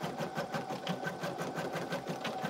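A Brother embroidery machine stitches an in-the-hoop lip balm holder, its needle tapping in a fast, even rhythm that keeps going quietly from start to finish.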